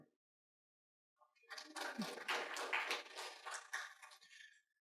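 After a moment of silence, a small academic conference audience breaks into brief polite applause for a university researcher, a few seconds of scattered clapping that swells and then fades out.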